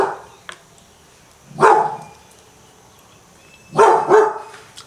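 A dog barks twice, loud and close: a pair of sharp barks around the two-second mark, then another double bark a couple of seconds later, with faint background noise between them and no talking.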